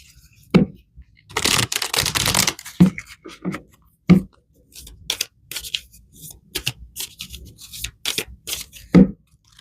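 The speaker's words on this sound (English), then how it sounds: "let me pull some more cards here" Tarot and angel cards are shuffled and pulled by hand in quick bursts of riffling and soft slaps, interspersed with sharp taps as cards hit a surface, close and uneven in rhythm.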